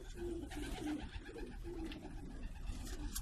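Racing pigeons coo softly in their loft, low rolling calls repeating at a middle distance over a steady rustling background, with no talk.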